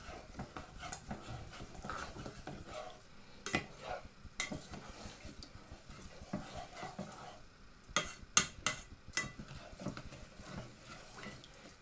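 Brown basmati rice is stirred in a rice cooker pot, with scraping spoon taps and irregular clinks over a faint background sizzle, close and fairly quiet, no one speaking.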